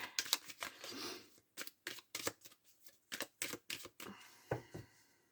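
Tarot cards are shuffled by hand up close in a quiet room, giving a series of quick, crisp papery riffles and slaps in irregular bursts, with no voices.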